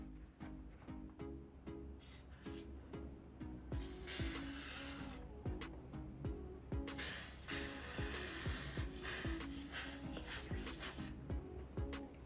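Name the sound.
makeup setting spray misted over the face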